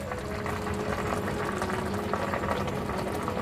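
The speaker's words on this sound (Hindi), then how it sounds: "गाढ़ा होने तक हम इसे पकाएंगे।" A pot of milk with condensed milk and coconut bubbling and simmering steadily as it cooks down for a festival sweet, a dense continuous bubbling and popping heard up close with no talk.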